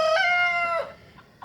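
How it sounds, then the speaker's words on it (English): A rooster on a homestead with chickens, hens and ducks gives a single loud, close crow that trails off, followed by quiet farmyard ambience. "one mean rooster right there"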